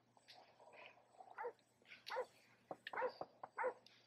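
Dog in Grand Theft Auto V barking in a series of sharp, irregular barks and yips at moderate distance, with some whimpering between them over a low steady hum.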